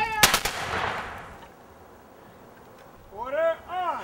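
Civil War reenactment rifles fire a loud, sharp volley at the start, with the report echoing and fading into quiet; afterward a voice calls out near the end.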